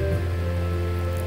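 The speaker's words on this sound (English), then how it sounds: "I'm flying through the rain." Steady rain in the Roblox game Adopt Me, a continuous even hiss of falling drops with low droning background tones, heard alone without talk.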